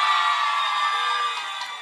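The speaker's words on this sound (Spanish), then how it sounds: "Aplauso para el baby." An audience cheers and shouts for a contestant at a lively event in La Concepción, Masaya, a dense sustained wash of voices and whoops that fades slightly toward the end.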